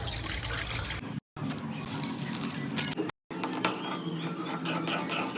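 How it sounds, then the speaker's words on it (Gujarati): Water from a glass poured into a bowl while making chutney for bhel, a steady close liquid splash and trickle broken by two brief silent gaps. "જો કટોરો મૂકી દો છે, પાણી નાખી દઈએ 1 ગ્લાસ"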